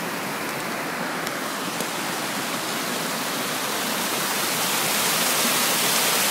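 Creek water pouring over a mill dam, a loud continuous broadband rush that stays steady and close for the whole stretch with no voices.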